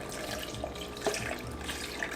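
Water poured into a vegan smoothie-style milk mix of soy milk and extra creamy oat milk, a steady near pour with a few small splashes and drips, with no talking.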